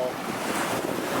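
Sea waves at the Baltic coast near Gdansk wash in a steady broadband rush, mixed with wind noise on the microphone, heard alone for a brief moment.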